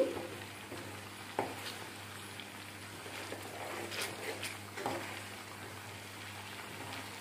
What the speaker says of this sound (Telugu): పచ్చివాసన పోయే వరకు అలా వేయించుకుంటానే ఉండాలి.